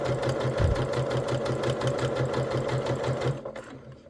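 A sewing machine stitches a quilt block in a steady, fast, even rhythm, close and clear. It runs alone and stops near the end.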